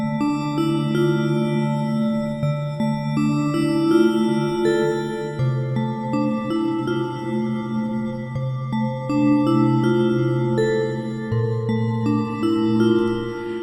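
A MIDI sequence plays on the Arturia Pigments 6 software synth, a sustained, shimmering polyphonic pad of layered chords that shift every few seconds, steady and fairly quiet with no voices.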